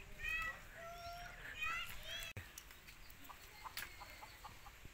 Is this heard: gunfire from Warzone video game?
no